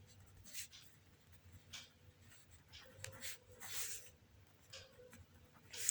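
Handwriting during a discrete mathematics lesson on recurrence relations, with soft scratchy strokes coming in short bursts, fairly close and quiet against a low background hum.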